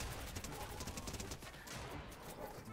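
Dense, continuous gunfire from a video game shootout, rapid overlapping shots at steady loudness throughout with no pauses.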